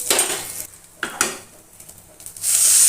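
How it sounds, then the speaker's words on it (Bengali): Green chilli and panch phoron tempering stirred in a little oil in a pan: metal spatula clinks and scrapes against the pan in short bursts, then a soft sizzle swells at the end. "একটা কাঁচা লঙ্কা আর একটুখানি ফোড়ন দিতে হবে, পাঁচফোড়ন দিয়ে নেড়ে চেড়ে নিয়ে"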